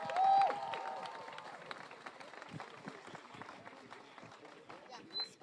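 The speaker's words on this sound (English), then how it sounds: "Give yourselves a round of applause" Demonstrators at a nighttime protest rally in Seattle applaud, a loose, moderately loud patter of clapping mixed with crowd murmur and scattered voices, with a brief louder burst near the start.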